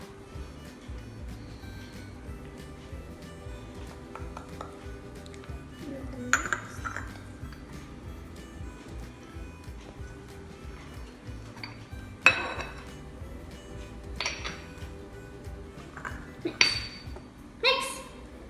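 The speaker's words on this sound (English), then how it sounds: "Mix it well and good with the cocoa." Brownie batter is mixed with cocoa powder in a bowl. A spoon clinks and knocks against the bowl in scattered bursts, quiet between them, while someone talks nearby.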